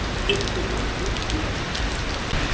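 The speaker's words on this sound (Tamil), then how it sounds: "நல்ல மழை பெஞ்சிட்டு இருக்கு." Heavy rain pours down steadily in Kerala during a trip on a KSRTC Swift Garuda AC bus, a loud, dense, unbroken roar of drops on surfaces with no talking.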